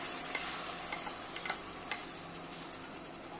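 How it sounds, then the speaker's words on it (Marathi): Spice paste frying in hot oil for a vegetarian Burmese khao swe soup, giving a steady soft sizzle with a few sharper crackles and stirring clicks, close and moderately quiet, with no talking. "तेलामध्ये ही सगळी आपण पेस्ट घालून घेऊया"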